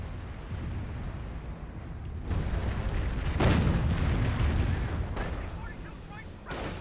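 Artillery barrage in Company of Heroes, a rolling run of heavy booms and blasts with dense rumbling explosions, loud and layered, swelling in the middle with sharper cracks toward the end, under intermittent game noise.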